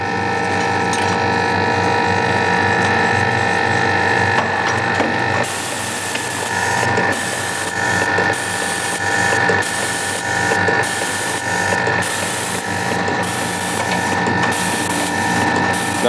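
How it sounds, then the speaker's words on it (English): An automated machine indexes fixtures from a magazine while its elevator rises, giving a steady mechanical hum with repeated ratcheting clicks and gear-like clatter. The pulses step up in rhythm partway through, loud and close, with no voices. "It indexes in the magazine, the elevator comes up."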